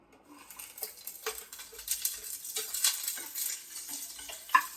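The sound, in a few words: onions sautéing in oil in a kadai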